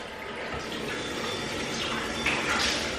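Running water splashing as someone rinses product off their face during a morning skincare routine, a steady broadband wash of tap water with brief louder splashes near the end, close and continuous with no talking.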